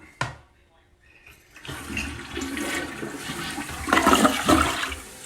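A toilet flushes close by, starting with a sharp click of the handle, then a rising rush and swirl of water that grows louder toward the end, with a voice briefly under it.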